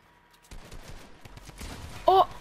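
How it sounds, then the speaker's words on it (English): A drum gun fires in Fortnite: a rapid rattling burst of gunfire with a dense run of quick shots, ending in a louder bright ring near the end, with a faint voice underneath. "Oh, he has a drum gun?"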